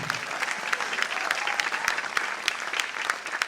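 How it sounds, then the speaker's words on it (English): Audience applause fills a hall at the close of a stage program, steady dense clapping throughout with sharp individual claps standing out, fairly close and sustained with no voices on top. "A round of applause for all of you."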